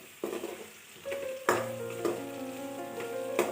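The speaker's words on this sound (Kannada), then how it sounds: "ನಂತರ ಎಲ್ಲ ನೀಟಾಗಿ ಮಿಕ್ಸ್ ಮಾಡಿಕೊಂಡು ನೀಟಾಗಿ ಫ್ರೈ ಮಾಡ್ಕೊಳ್ತಾ ಇದ್ದೀನಿ" Soya chunk gravy masala with ginger garlic paste frying in a pan, a steady sizzle with scraping stir strokes and clanks of a spoon against the pan, moderately close, with no voices.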